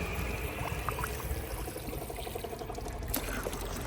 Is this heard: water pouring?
yes